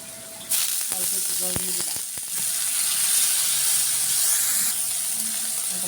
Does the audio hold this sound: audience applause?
no